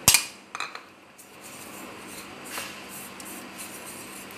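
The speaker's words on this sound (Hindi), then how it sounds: "ये देखिए स्पैचुला की मदद से हम इसको अच्छे से मिक्स करेंगे" A spatula mixes oil and powdered sugar for a brownie cake, with a few sharp metal scrapes at the start and then soft, continuous rubbing and scraping close by.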